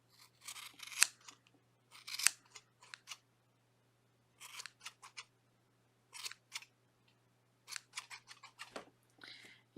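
Scissors snip yarn on a crocheted pocket shawl, making a series of short, sharp cuts in quick clusters separated by pauses, close and fairly quiet over a low steady hum.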